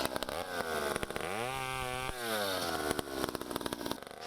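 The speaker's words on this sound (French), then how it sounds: "La tronçonneuse à la main, il entame l'élagage." A chainsaw pruning a eucalyptus tree runs loudly nearby, its engine pitch rising as it bogs into the cut, then dropping back to a rough, revving idle.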